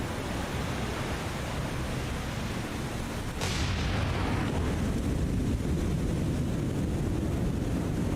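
Heavy naval gunfire from a warship firing high-explosive shells in the naval combat game War on the Sea, a sudden loud boom at about three seconds followed by a sustained rumbling roar over steady broadband noise.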